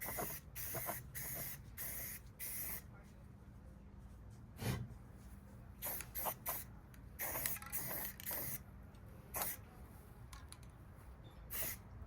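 A spray can lays a first coat of paint onto the top of a Kawasaki KE175 rear fender, repeated close hissing bursts of varying length with short pauses between them, alone without talk.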